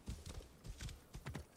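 A horse's hooves in Assassin's Creed Origins: rhythmic clip-clop of a riding horse, a steady trotting beat, fairly faint and close, with no talk over it.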